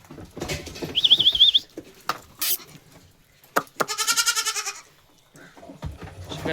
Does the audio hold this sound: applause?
no